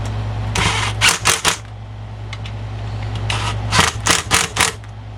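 Screws being run down with a power driver while assembling a McCulloch Pro Mac 10-10 chainsaw, two short bursts of rapid ratcheting clicks over a low steady hum, close up.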